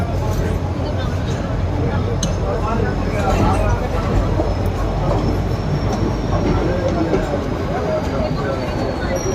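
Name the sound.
passenger train at station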